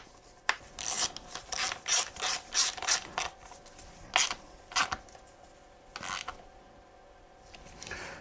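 A hand ratchet runs in a steady series of raspy clicking strokes while tightening a chain guide bolt into aluminium on a KTM 500 EXC-F, close and fairly loud, with a pause and a few final strokes.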